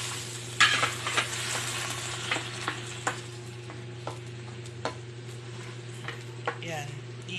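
Garlic and onions sauté in oil in a pan, giving a soft continuous sizzle over a low steady hum, with regular light clicks from stirring and a voice talking now and then.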